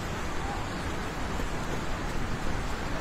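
A river swollen by a flash flood at a construction site rushes in a dense, steady roar that fills the whole clip, with no clear speech over it.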